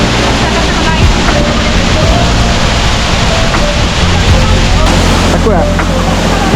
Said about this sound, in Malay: inilah air terjun yang kita orang datang